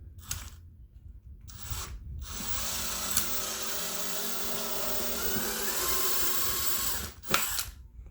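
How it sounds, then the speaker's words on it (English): A power drill with a 3/16 drill bit bores into interior car trim on a 2019 Ford Flex SEL, one sustained whirring run of several seconds between brief pauses, close and fairly loud, with no talking. "So here we go, 3/16 drill bit, and we're gonna get at the very far corner here and drill"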